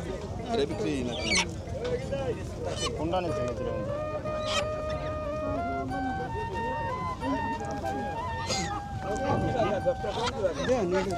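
Poultry at a village market in Dohar, with a feisty chicken and a rooster being brought over, squawking and honking among busy crowd noise and continuous talk throughout.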